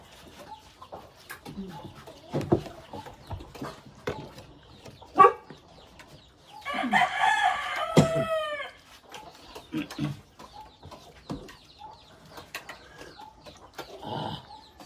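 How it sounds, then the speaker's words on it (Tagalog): Native chickens cluck intermittently close by, with a rooster's crow rising in the middle, amid quiet background noise. "Native na manok."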